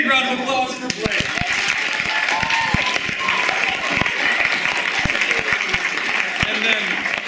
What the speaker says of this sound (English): big round of applause for Blake